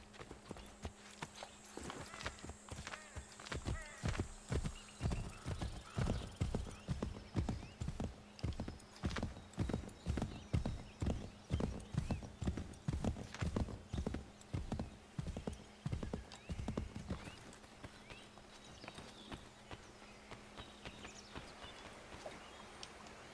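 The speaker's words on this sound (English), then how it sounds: "We could take the horse." A horse in Assassin's Creed III gallops with a rapid, steady clip-clop of hooves that runs for most of the stretch before slowing and fading, with a brief neigh near the start and faint background sound.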